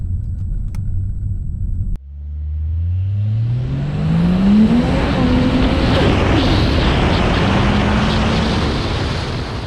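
A Ford FPV performance car, over ten years old and sold in Australia, pulls away after a brief idle, its engine climbing steadily in pitch under hard acceleration with a loud, close roar and rising exhaust note.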